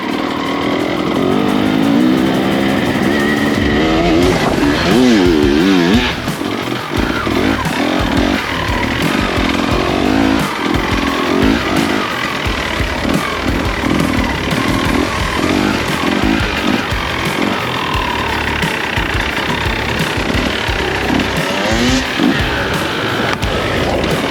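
An enduro motorcycle engine drones and revs continuously at close range during extreme enduro training, loud and rough throughout, with no speech.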